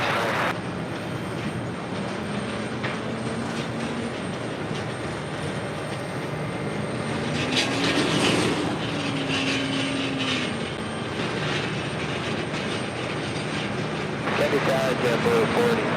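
Airliner in the new Peacock special livery at JFK, jet engines giving a continuous roar with a rising and falling whine, heard under talk and radio chatter.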